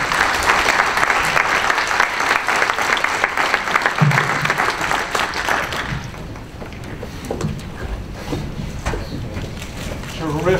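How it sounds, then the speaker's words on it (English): Audience at a panel discussion on protest, racketeering and the First Amendment applauds the panelists, dense steady clapping for about six seconds before fading into quieter room noise and scattered sounds. "Let's give our panelists a round of applause."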